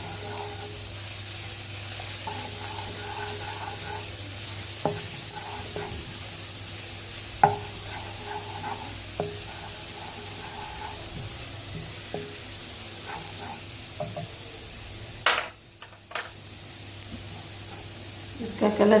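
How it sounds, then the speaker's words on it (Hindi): Crushed garlic frying in oil in a pan for a ginger and garlic curry, a soft steady sizzle with scattered clicks and scrapes of stirring, faint and continuous, a louder knock near the end. "फिर इसमें लहसुन जो कूटा हुआ था वो लहसुन शामिल करेंगे और इसको भूनेंगे।"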